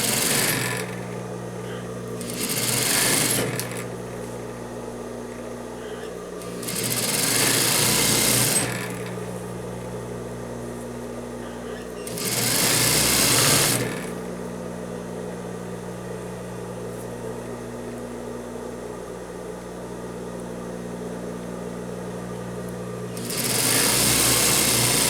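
A sewing machine stitching a seam on a French-cut dress, running in four bursts of a few seconds each with quiet pauses between them, close and fairly loud, with low background sounds in the gaps.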